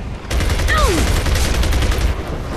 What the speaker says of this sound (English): Like right there, point blank shotgun.